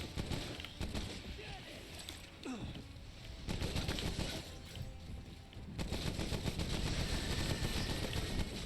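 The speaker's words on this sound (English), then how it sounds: "the SMG makes really short work of the Banshees" SMG fire in the Remnant video game, quick rattling bursts broken by short pauses and growing louder, mixed with game effects, a voice talking now and then.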